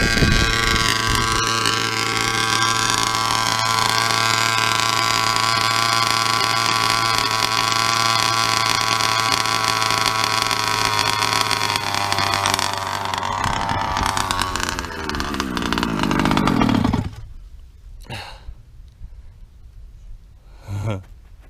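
Small engine idling steadily after its carburetor idle screw is turned down, a close, even drone that runs for about seventeen seconds, then cuts out, leaving only faint scattered noises.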